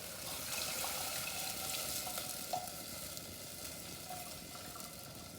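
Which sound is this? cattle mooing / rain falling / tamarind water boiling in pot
tamarind water boiling in pot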